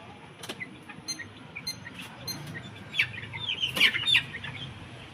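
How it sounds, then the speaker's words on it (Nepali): Young chicks that live and grow up together peep in high, scattered bursts, mixed with soft clucking from nearby fowl, fairly close and busiest toward the end. "यो र यो सँगै बस्ने चल्ला हो, सँगै हुर्किने चल्ला हो"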